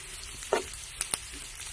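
Pork with onion and garlic frying in a pan for a tauge and sotanghon dish gives a steady close sizzle, broken by a few sharp crackles and stir clicks.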